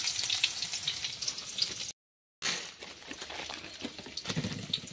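Onion hits hot oil in a village kitchen in Assam and fries with a steady, close sizzle and crackle. A brief silent break interrupts it before the hiss picks up again.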